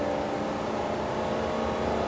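A 2000 Four Winds Windsport motorhome speeding up on an interstate, its engine and road noise a steady, dense roar with no pauses and no voices.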